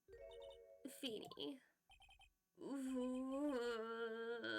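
A mobile phone ringtone plays in short melodic bursts, then a longer sustained tonal phrase, inside a Phoenix Wright: Ace Attorney Trilogy game scene, with a voice speaking briefly between the rings.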